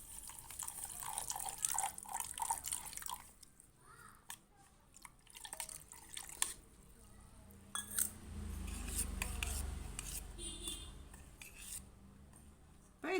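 Coconut milk is poured into semolina for a rava sweet and mixed in, with soft liquid pouring, drips and spoon clinks against the bowl, quiet and close.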